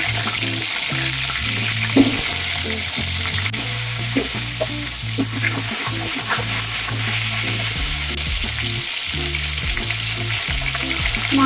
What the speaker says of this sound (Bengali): তেলটা একটু গরম করে নিই, দিয়ে দেবো এর মধ্যে আলু